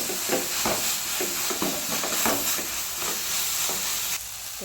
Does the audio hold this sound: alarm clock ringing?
no